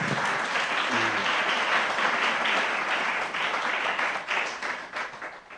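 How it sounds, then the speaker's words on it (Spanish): A church congregation applauds in praise, dense sustained clapping filling the room at steady loudness before tapering slightly toward the end. "Démosle un aplauso al Señor"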